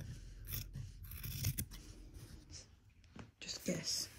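Scissors cut along a marked line through thermal-lined roman blind fabric, giving faint, close snips and crisp rustling with soft scraping, all under quiet talk.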